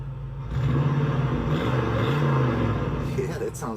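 A Chevrolet El Camino with a 350 crate engine runs close by, a steady low rumble and whir with a brief rise in revs, while people talk over it.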